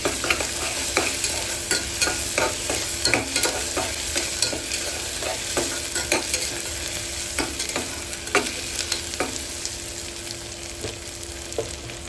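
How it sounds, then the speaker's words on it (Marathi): Ginger garlic paste stirred into hot oil for chicken pulao, a continuous sizzle and fry with repeated scraping clicks of the spoon against the pan, close and steady throughout. "त्यात आलं लसूणची पेस्ट पण टाकली ती पण मस्तपैकी मिक्स मिक्स करा तेलात"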